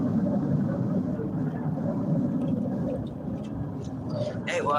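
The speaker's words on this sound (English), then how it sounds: "That is one loud plane." A loud airplane passing overhead at an outdoor creekside spot, a low rumbling drone that holds steady and then fades slightly, heard under a voice.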